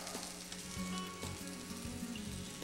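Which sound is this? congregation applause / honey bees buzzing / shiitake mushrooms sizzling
shiitake mushrooms sizzling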